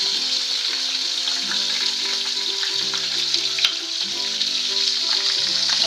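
Green chillies and a small tomato sizzling in hot oil with cumin for a moong masoor dal tadka, a dense, steady close-up crackle with faint stirring clicks.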